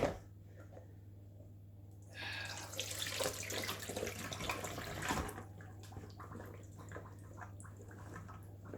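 Water pours and splashes as boiled potato fries are drained through a colander for a few seconds, rising then trailing off into drips, with a low hum underneath.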